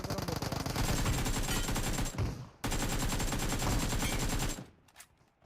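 Gunfire in the mobile battle royale game BGMI during a 1v4 clutch, with a shotgun: loud, rapid, sustained volleys in two long stretches split by a brief pause, then a few fading trailing shots.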